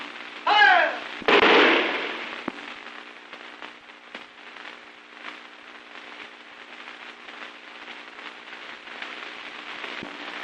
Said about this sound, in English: Aim! Fire!